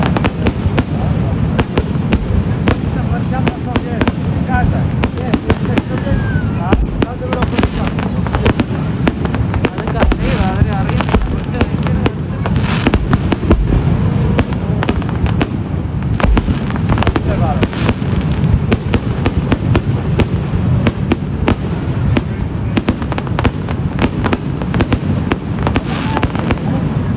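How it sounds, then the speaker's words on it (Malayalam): A fireworks display at Niagara Falls, with dense, continuous bursts and crackling pops going off one after another over about half a minute. Crowd noise and voices sit underneath the explosions. "അതൊരു അടിപൊളി ഫയർ വർക്ക്സ് ആയിരുന്നു."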